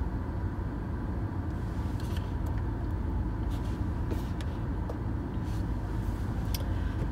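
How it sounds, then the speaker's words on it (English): A car engine runs steadily while warming up, a low continuous rumble with a few faint clicks and rattles over it, close and without talk. "Come on, car, warm up."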